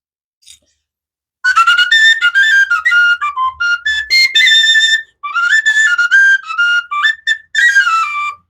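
A flute carved from pelican wing bone plays a series of clear, breathy whistled notes in short phrases with brief pauses, close and fairly loud, with no talking.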